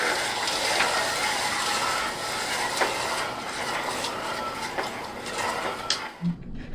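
A hand-cranked grinder crushes hardtack into breadcrumbs, giving a steady, close, gritty grinding with mechanical clicking that runs continuously and then stops abruptly near the end.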